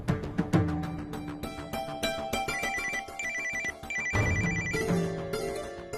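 A telephone rings in a Tamil TV serial scene during a call, a melodic ringtone pattern of bright repeated tones playing steadily and fairly loud with no talk over it.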